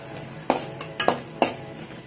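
Sliced green chillies tossed into onions in a pan, giving a few sharp clinks and scrapes of a spoon stirring against the metal, spaced irregularly and close by.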